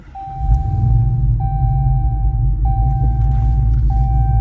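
A Hellephant-swapped Chrysler 300 fires up and settles into a loud, deep, lumpy idle with a steady low rumble, while a repeating electronic chime pings over it at regular intervals.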